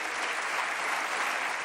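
Sustained, dense applause fills a French National Assembly chamber as the majority claps steadily without a break.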